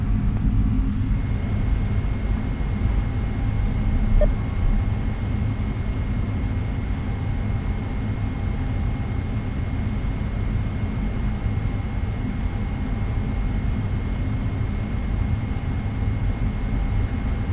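Boeing 777-300ER jet engines in Microsoft Flight Simulator on a takeoff roll from Singapore Changi runway 02C, a steady deep rumbling roar with a faint high whine held throughout, continuous and even.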